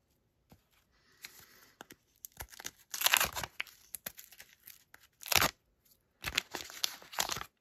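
Wax packs of baseball cards being ripped open one after another, with sharp close tearing bursts and crinkling paper separated by short quiet gaps, no talking.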